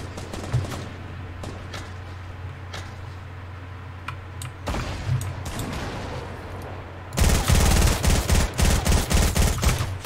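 Fortnite gunfire rings out in scattered shots early on, then erupts into a loud rapid burst of repeated fire in the final seconds.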